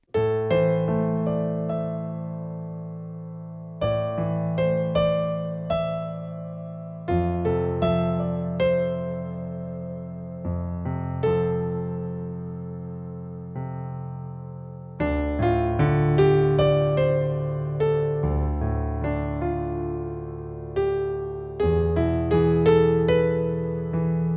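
Solo piano playing repeated arpeggios with extra scale notes woven in, steady and clear, phrases restarting every few seconds.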